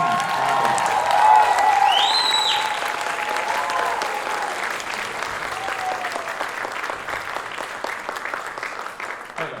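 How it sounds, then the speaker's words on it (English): Audience applause fills a jazz concert by a high school jazz band and a Navy jazz band, a dense, steady wash of clapping from a large crowd with a few whoops and whistles, gradually thinning out toward the end. "please do a round of applause"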